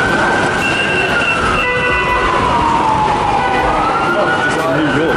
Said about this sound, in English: Yo, man, there's just sirens everywhere.